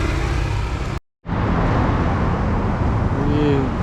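Steady traffic noise fills a busy Bangkok transport hub near Chatuchak, with cars and heavier vehicles rumbling continuously close by and a brief cut partway through.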